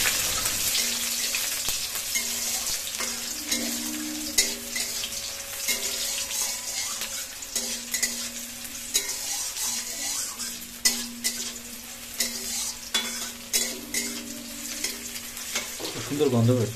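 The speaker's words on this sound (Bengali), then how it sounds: "এখন আস্তে আস্তে খুব সুন্দর করে আগে ফ্রাই করে নেবো এগুলো" Onions frying in oil in a pan for tilapia curry: continuous soft sizzling with stirring scrapes and clinks, close and moderately quiet, with a low background hum and a few sharper knocks near the end.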